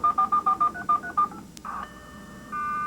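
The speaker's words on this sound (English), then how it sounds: "Now it's starting to dial." A computer modem dials a telephone number in rapid DTMF tones, a quick run of about eight clear beeps, followed by a short click and a steady line tone, heard fairly close and alone.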